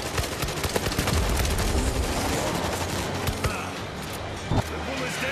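Sustained turret gunfire in the video game World War Z: Aftermath, set in Moscow, a steady loud stream of rapid shots with occasional heavier thumps, continuing under a speaking voice.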